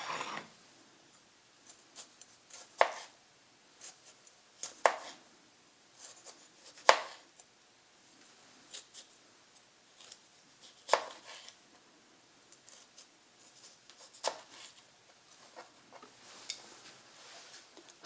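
Tomatoes sliced about an eighth to a quarter inch thick are chopped with a kitchen knife on a board, giving sharp, irregular knocks spaced a second or two apart, moderately close and fairly quiet, with no talking.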